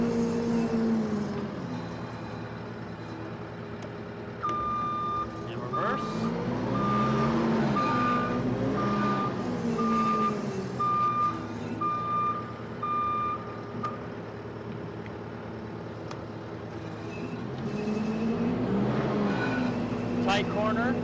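A JLG 8042 8,000 lb diesel telehandler idles and maneuvers, its engine rumbling steadily while a regular backup beeper pulses through the middle stretch as it reverses, with a person talking over it.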